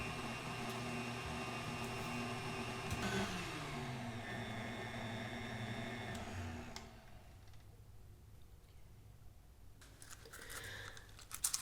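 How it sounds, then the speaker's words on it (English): A stand mixer whirring with its whisk attachment at speed 4, a steady motorised hum with layered tones that shift pitch briefly, then drop to a softer drone before some faint clatter at the end. "I'm using the whisk attachment, and as you can see, we have sped it up to about a level 4 here"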